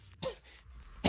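A single person clears their throat in a short rough cough, close and fairly quiet, with a sharper burst at the very end.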